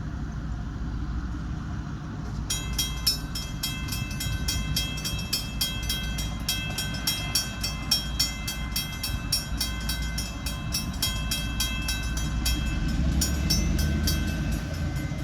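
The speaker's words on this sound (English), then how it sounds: "Here we are waiting on the Florida Midland Railroad." Florida Midland Railroad train passing along old tracks, a steady loud rumble of rolling wagons with rhythmic wheel clatter building after the first couple of seconds and continuing throughout, with no talk.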